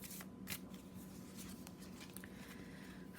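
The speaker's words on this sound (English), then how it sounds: "We're going to pull one Moonology manifestation card to extend the message." Moonology oracle cards are shuffled by hand and pulled from the deck, giving a faint, close run of soft riffling and papery flicks with a few sharper card snaps.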